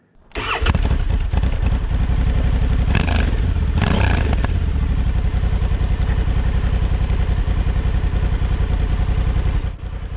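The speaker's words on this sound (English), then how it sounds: "For a stock exhaust, I think it sounds absolutely fantastic." A 2020 Honda Africa Twin 1100 Adventure Sports with its stock exhaust starts up and runs with a loud, steady, throbbing engine note, including a couple of brief revs, before cutting back near the end.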